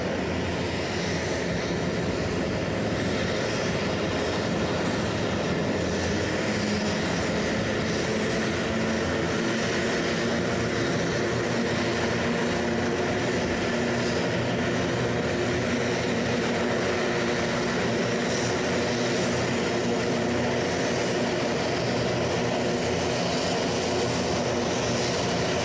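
Tracker T15 propeller aircraft flying, its engine drone steady and loud throughout with a broad, continuous roar and no pause.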